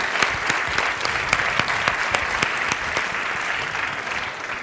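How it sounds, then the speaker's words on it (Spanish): Applause from the audience at the Gastrónoma 2019 gastronomy congress: a dense, steady wash of clapping from a large crowd, loud and continuous with a few sharper individual claps standing out. "quería que le des un aplauso"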